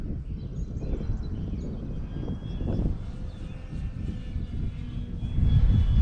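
A Super DeFLATlon radio-controlled model airplane flies overhead on its maiden flight, its engine drone steady and moderately loud, mixed with wind rumble that grows heavier toward the end.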